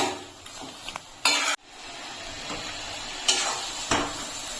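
Taro leaves (kochu shak) cooked down dry in a pan, with quiet frying sizzle and a few brief scraping, clinking stirs of a utensil against the pan.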